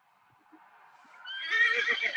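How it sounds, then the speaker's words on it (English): A horse whinnies somewhere near a garden, faint at first and then rising into a loud, drawn-out neigh with shaky breaks that fills the second half, with no talking. "Just heard a horse."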